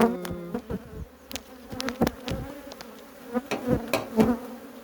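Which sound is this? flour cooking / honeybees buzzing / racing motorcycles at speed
honeybees buzzing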